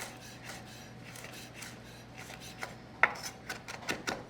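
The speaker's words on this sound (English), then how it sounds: "let's just give this rosemary a little chop" A knife chops fresh rosemary on a board in a quiet kitchen, soft rasping cuts that become sharper, quicker taps near the end.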